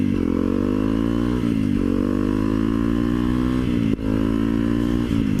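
A motorcycle engine is revved by twisting the throttle, giving a loud, steady drone that rises in pitch, dips and climbs again, with a brief cut near the end and no speech over it.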